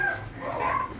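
A four-year-old rooster kept with hens in a rooftop pen gives a short, close cluck with a rising, wavering call.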